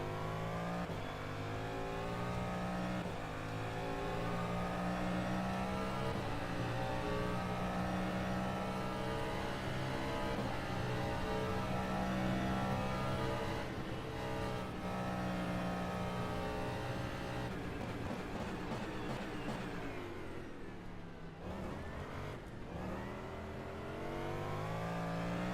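An LMP2 prototype race car in rFactor 2 howls past with a loud, steady engine whine that holds pitch for a long stretch, then drops sharply and fades near the end.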